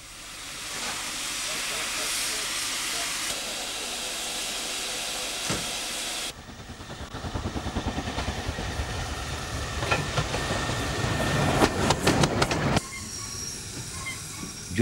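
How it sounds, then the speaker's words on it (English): A 1950 Ivatt mogul steam locomotive on a heritage railway, heard as a broad steady hiss that gives way to rhythmic chuffing and wheel clatter, rising in loudness before settling. "Number 46443 is a 1950 Ivatt mogul."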